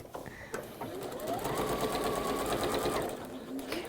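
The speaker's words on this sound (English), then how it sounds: "Right sides together. One of my favourite makes. And quarter of an inch." A sewing machine stitching two pieces of fabric right sides together with a quarter-inch seam, heard as a close, steady mechanical whir that speeds up, holds, then slows, with faint talk beneath.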